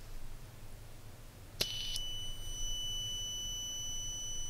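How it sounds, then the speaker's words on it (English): A cheap sensor module's buzzer gives a short, sharp high-pitched beep that rings on briefly at a steady tone, sounding alone against a quiet background. "You can see the buzzer."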